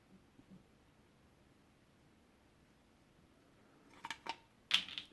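A 12V LED strip is cut with scissors; after near silence, a few quick, crisp snips sound close by.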